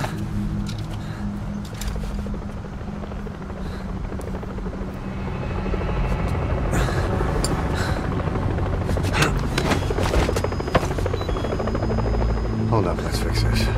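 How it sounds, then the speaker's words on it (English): Helicopter arriving in Metal Gear Solid 5: The Phantom Pain, a steady rotor thrum and buzz that swells louder halfway through, mixed with game effects and bursts of noise and talk. "In come the helicopter, right?"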